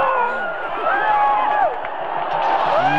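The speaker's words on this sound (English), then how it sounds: "Look at those cheering crowds!" A large crowd cheers Indonesia's world championship win, with a sustained roar of voices, whoops and scattered clapping at steady volume.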